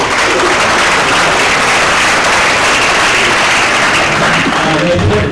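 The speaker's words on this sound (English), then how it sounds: "So a round of applause there." Dense, loud audience applause at a conference session, steady and sustained from a large crowd throughout.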